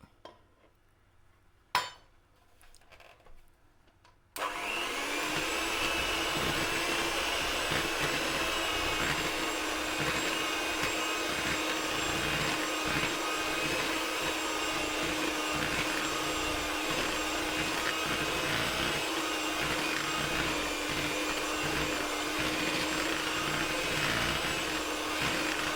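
An electric hand mixer whirs steadily, beating an egg into butter biscuit dough in a bowl; after a few quiet knocks and clatters at the start, the motor runs loud and continuous to the end, with no talking.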